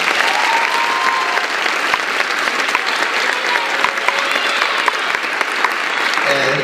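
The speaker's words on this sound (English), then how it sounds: "Would you please give them a round of applause?" Sustained audience applause fills a high school performing arts awards show, a dense, steady wash of many hands clapping at close range for nearly seven seconds, with a few faint voices and cheers mixed in.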